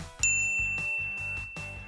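A notification bell dings several times in quick succession, a bright metallic ring struck near and clear, each strike decaying with a tinkling shimmer, with no voices.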